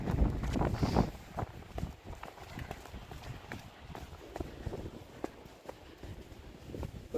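Steady blustery wind buffeting the microphone, with a rumbling roar throughout and faint footsteps or crunching underneath.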